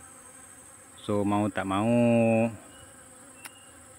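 Bees near tualang honey, a close droning buzz that swells for about a second and a half with pitch wavering, while a person briefly speaks.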